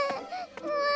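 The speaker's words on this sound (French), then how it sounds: "Ne pleure plus, mon bébé." A baby in a French cartoon family series cries in a high, wavering wail that runs through the brief moment with a small catch in the middle, close and fairly loud.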